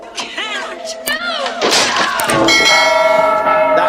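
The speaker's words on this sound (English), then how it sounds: "Not that bell, this bell." A bell is struck loudly after a few thumps and rustles, leaving a bright, sustained ringing tone that carries to the end, with voices faintly mixed in earlier.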